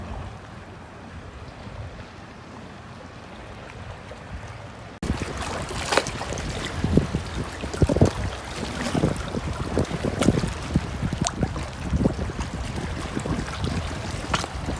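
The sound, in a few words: ocean waves at a dock in the Florida Keys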